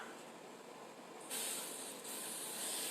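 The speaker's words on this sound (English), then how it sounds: "give her another spray." Aerosol spray can spraying paint onto a flat foam-and-fabric Amtgard practice weapon, giving a steady close hiss that jumps louder midway and keeps going as the can runs low.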